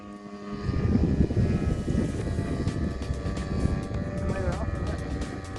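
A small propeller model aircraft, a kit-built Extra 300X, drones past overhead, its buzzing engine rising and shifting in pitch, steady and fairly loud with wind noise.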